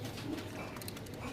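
Rajasthani pigeons coo softly at home in a short, steady murmur of low throaty calls amid faint background noise.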